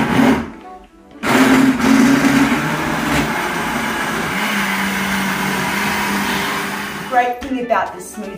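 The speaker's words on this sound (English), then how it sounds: "And the next thing you want to do is blend it!" A blender runs steadily with a smoothie of coconut milk and fiber mix, loud and close; it starts after a brief pause, whirs continuously for about six seconds, then cuts off with some clatter at the end.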